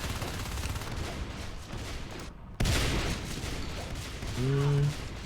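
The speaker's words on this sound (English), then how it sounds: "they want to use their shotguns and see what they can do first" Shotgun fire in the Natural Selection 2 game, chaotic rapid gunshots and booms in a dense firefight with a brief dropout midway, over a constant background din and game sounds.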